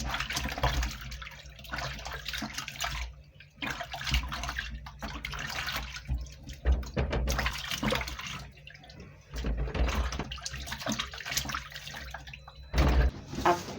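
Vegetables being washed by hand in a basin of water, with repeated sloshing and splashing bursts separated by brief quiet pauses, close and moderately loud, no speech.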